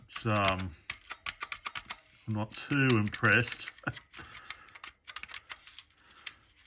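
Keys clatter in quick irregular clicks on the worn keyboard of an old Leningrad-1 home computer, some keys sticking, with someone talking over part of the typing.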